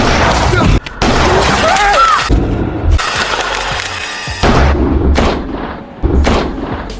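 Blind, wild gunfire from a handgun in a film scene, with heavy booming shots and thuds in irregular bursts, loud and close, mixed with mechanical clatter and brief whistling tones.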